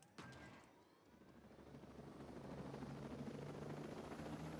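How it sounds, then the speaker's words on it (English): Helicopter in the video game Ghost Recon: Breakpoint, a faint rotor and engine drone that swells gradually and settles into a steady low hum, alone. "we're going to take your helicopter here"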